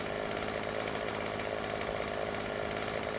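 An old McCulloch chainsaw in the video game Farming Simulator 15 runs continuously with a steady buzzing engine drone, even in loudness throughout and without talk.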